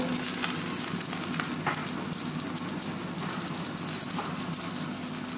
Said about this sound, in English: Now I'm going to add in some onions.